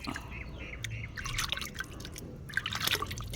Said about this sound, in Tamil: இதை அப்படியே எடுத்து மண்ணுக்கு கொஞ்சம் ஊற்றி விடுங்க